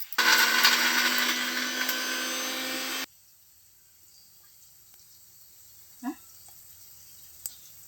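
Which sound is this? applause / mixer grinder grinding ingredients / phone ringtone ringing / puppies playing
mixer grinder grinding ingredients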